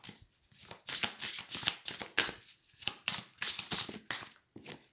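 Oracle cards being shuffled during a card reading: a run of close, crisp riffling bursts with short gaps between them, clear and uninterrupted by speech.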